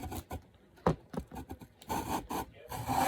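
Scope rings being lapped with a lapping bar and compound, giving short irregular metallic rubbing and rasping strokes, fairly close and moderately loud, with no voices.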